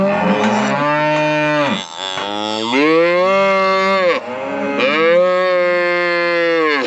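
A cow held in a cattle chute during treatment for a pinkeye outbreak lets out loud, drawn-out moos, three long calls in a row, close by and alone without any talk.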